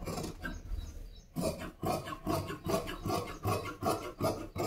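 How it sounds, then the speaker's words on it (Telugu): Scissors cut through blouse fabric with a steady run of crisp, rhythmic snips close by, after a short quiet start. "దీన్ని సేమ్ ఇలాగే కటింగ్ చేసేద్దాం."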